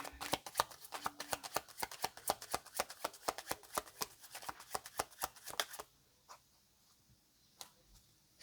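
Tarot cards shuffled in quick, crisp riffling bursts, a rapid even patter of snaps that stops abruptly, followed by near silence and a couple of soft taps as a card is drawn.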